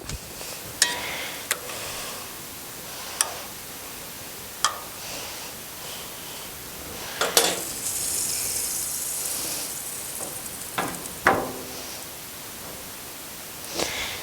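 A steak sizzles on a hot Blackstone griddle with plenty of butter, giving a steady, soft hiss. A few sharp metallic taps and clicks, like a spatula on the flat-top, cut through now and then, with a brief louder surge of sizzling midway.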